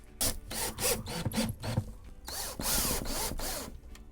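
A power drill drives 1 1/8-inch screws into a drywall patch on a water-damaged ceiling and wall, heard as several short whirring bursts with pauses between them, close and fairly loud.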